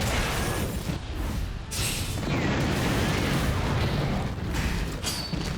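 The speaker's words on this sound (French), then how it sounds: "Giga explosion." A Giga explosion attack in Monster Hunter Stories 2 bursts into a dense, loud rumbling blast with crackling debris and booms that roll on for several seconds, with no voices heard.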